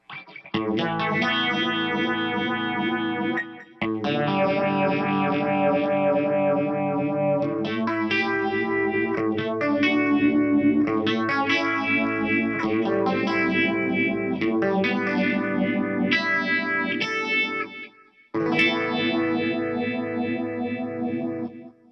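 Electric guitar chords and riffs through a Keeley Vintage Phaser pedal, with a swirling, sweeping modulation effect and some grit, played steadily with a couple of short pauses.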